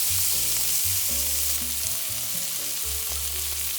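Mixed vegetables for a black bean curry cooking in a pan, sizzling steadily up close, with occasional stirring noises beneath a dense hiss.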